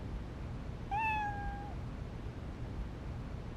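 A single short cat meow from the video game Trauma Team, rising then holding briefly, heard alone over a steady low background hum.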